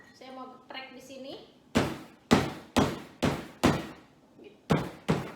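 Galangal being smashed for beef bone soto, seven heavy thudding pounds in a fairly even rhythm, close and loud, after a brief stretch of someone speaking.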